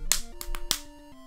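A single sharp hand clap sounds close and fairly quiet, followed by a few quick snap-like taps, with no talking.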